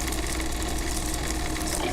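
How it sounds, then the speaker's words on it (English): In Disco Elysium, a reel-to-reel tape plays harsh static mixed with a steady mechanical churning, a dense, constant, loud noise with no voices. "Violent static and machine sounds fill the air."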